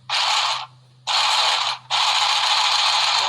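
A Handy Stitch handheld sewing machine running across fabric in three mechanical whirring bursts with brief gaps, loud and close against a faint low hum.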